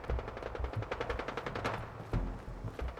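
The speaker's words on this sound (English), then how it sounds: "Yeah, I can hear gunshots again." Rapid bursts of automatic gunfire in the Fallout 4 Nuka World game rattle on without pause, loud and dense, with heavier low thumps mixed into the volley.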